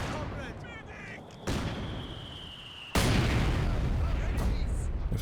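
Grenade explosions in the strategy game Company of Heroes 2, heard as loud blasts amid ongoing battle noise, with a sharp jump in intensity partway through and a dense rumble continuing to the end.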